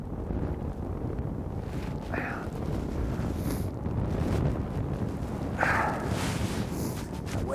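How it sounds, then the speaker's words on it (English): Strong wind buffeting the microphone on a snowy, foggy mountain during a Washington State elk hunt, a steady loud roar with gusts swelling and easing, and faint brief voices in the background. "The wind's terrible."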